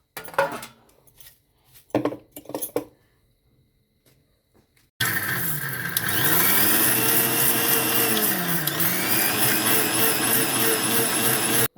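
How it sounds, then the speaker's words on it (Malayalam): A kitchen mixer grinder whirs continuously, grinding cooled burnt leaves into fine powder for a homemade herbal hair dye, loud and steady after a few seconds of quieter clinking and handling beforehand. "ഇത് നമ്മൾ മിക്സിയിൽ ഇട്ട് പൊടിക്കുകയാണ് കേട്ടോ."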